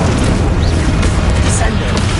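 Confringo and Incendio spell blasts go off in a Harry Potter video game as a loud, dense, rumbling boom that fills the whole short moment. A voice is mixed in.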